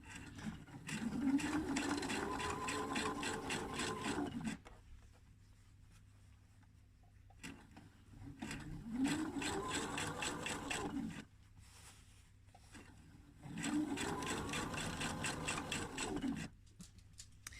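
A sewing machine edge-stitches a dress facing in three runs of steady whirring, each a few seconds long and separated by quiet pauses, with the motor pitch rising as it speeds up.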